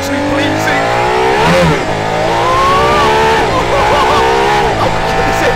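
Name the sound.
Aston Martin Valkyrie engine revving on circuit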